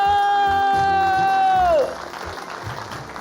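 Applause and cheering from a studio audience at a quiz-style game show, a broad wash of clapping and crowd noise that swells in after a sustained tone fades and keeps going steadily.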